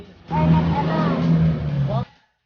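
A car engine revving up and running steadily for nearly two seconds, loud and close, then cutting off abruptly, with voices heard over it.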